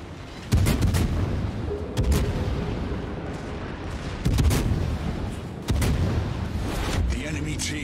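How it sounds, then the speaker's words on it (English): Naval guns fire during a World of Warships battle, with heavy booming salvos at irregular intervals over a constant rumbling game soundscape. "Who the hell is shooting at me?"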